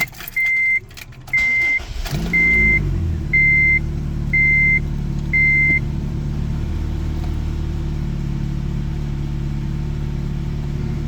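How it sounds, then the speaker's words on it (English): An 8th-generation Honda Civic engine starts with a short crank and settles into a steady idle, preceded by a series of six evenly spaced electronic chimes. "We're gonna start the car for a little bit."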